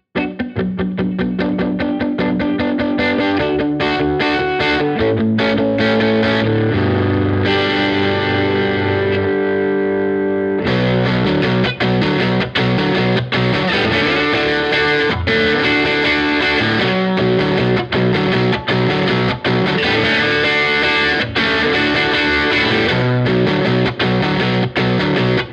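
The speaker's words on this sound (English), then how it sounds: "there's a bit of a mixer here that splits the signal in 2, sends it to the 2 different overdrives, melts it back together" An electric guitar plays through a stereo preset in GarageBand or Logic Pro that splits the signal into two overdrives and blends them, giving a loud, distorted, chorused tone with strummed chords and riffs, one brief pause midway, no speech.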